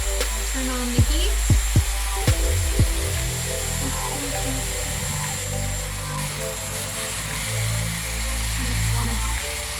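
A Dyson Airwrap styler blows hot air on hair with a loud, steady whooshing motor hum throughout, preceded by a few brief clicks and tonal beeps as it starts up.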